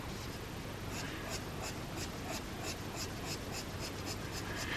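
Colored pencil strokes on paper, a steady rhythmic scratching of short repeated strokes, close and continuous for the whole stretch with no talk.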